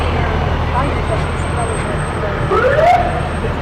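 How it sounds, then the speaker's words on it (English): A fire truck gives a short rising siren whoop once during a parade, amid steady traffic rumble and road noise, brief and moderately distant. "it's our first siren experience today right there. Just a little whoop"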